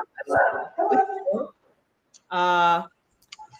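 A calm mixed-breed mongrel dog gives a single drawn-out, tonal whine or yelp close by, after a stretch of people talking at home.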